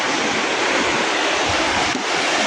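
Sea waves wash steadily onto the shore at Puri, a broad, continuous roar of surf with a touch of wind buffeting, loud and close with no talking.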